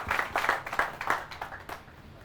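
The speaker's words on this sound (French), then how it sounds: "Applaudissements" Applause from a seminar audience during a French-language business marketing training session, a short patter of clapping with irregular bursts that fade quickly, moderately quiet.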